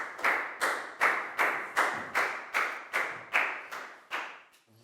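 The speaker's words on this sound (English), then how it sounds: "A big round of applause for Pat" A primary school class claps for a pupil in a rhythmic unison pattern, about ten sharp, evenly spaced group claps roughly half a second apart, each with a brief decaying tail, before stopping abruptly.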